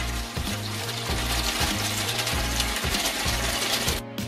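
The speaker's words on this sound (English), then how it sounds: "Now we're gonna put a pan of water with the peas to start boiling." Water poured into a pan holding red peas for rice and peas, a steady gurgling splash with a faint rhythmic pulse, close and continuous before stopping abruptly near the end; no talking.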